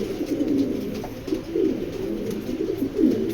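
A nervous female black checker pigeon coos softly at close range, a low continuous murmur that swells in short rolling bursts.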